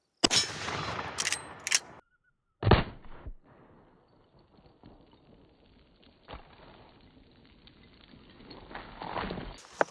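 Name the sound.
45-70 rifle shots at a safe lock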